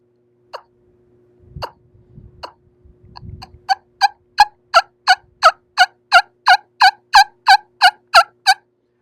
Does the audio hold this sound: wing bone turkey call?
yes